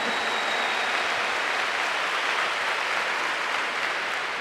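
Steady applause from a large audience at a packed religious gathering, a continuous dense wash of clapping at moderate volume with no voices.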